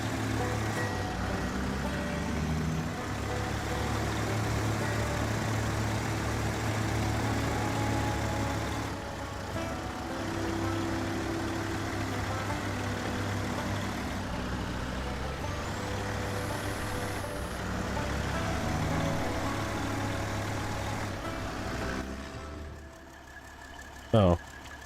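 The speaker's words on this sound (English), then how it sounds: "this truck has got that good Kenworth, like, turbo whistled" A Kenworth truck engine rumbles steadily in the Snowrunner video game, a sustained low drone with a faint turbo whistle, running for over twenty seconds before dropping off near the end with a sharp click.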